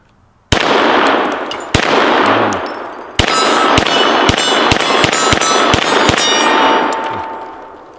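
A plastic Glock 17L toy pistol fires sharp, close clacks: three spaced shots, then a rapid run of about ten more, each ringing briefly before the next.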